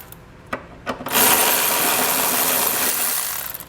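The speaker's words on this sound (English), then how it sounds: "Now we can actually remove our metal exhaust hanger here. So there's going to be 2 bolts. Use an 18mm socket to do this." A socket tool with an 18mm socket removes the bolts of a metal exhaust hanger on a 2019 Ford Flex while a trailer hitch is installed. A couple of short knocks lead into a steady, loud whirring run lasting several seconds.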